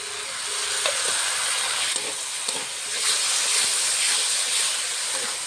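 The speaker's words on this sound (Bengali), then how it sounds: "মশলা দিয়ে ভালো করে কষিয়ে নেব।" A ground paste of green chilli, ginger, cumin and garlic fries with browned potatoes in a pan, producing a loud, continuous hissing sizzle with a few light scraping touches.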